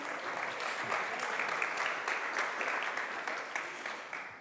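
Steady audience applause from a room of attendees at a Metadecidim conference session, dense and sustained clapping at even loudness for the whole stretch with no talk over it.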